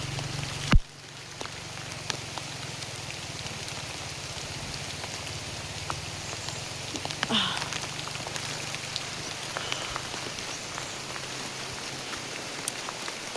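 Steady rain patters down across a surface on a farm in a dense, even hiss, with a sharp knock near the start and a few small clicks scattered throughout.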